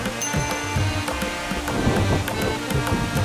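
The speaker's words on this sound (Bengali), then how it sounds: "জোরে বৃষ্টি নেমে যাচ্ছে নেমে গেছে" Heavy rain pours down in a garden orchard, a dense steady patter with gusty wind mixed in, close and continuous for a few seconds.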